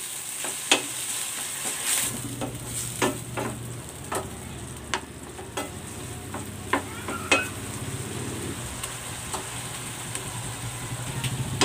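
Ground beef sautéing in a pan with soy sauce and oyster sauce, a steady sizzle that swells as the liquid goes in, punctuated by regular spoon taps and scrapes while stirring.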